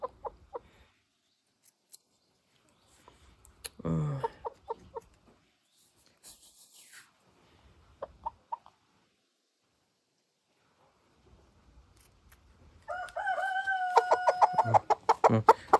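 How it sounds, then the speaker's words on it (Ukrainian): Quiet stretches broken by soft clucks and scratchy rustling, then a louder burst of throaty crested rooster clucking close by near the end. "так, півник"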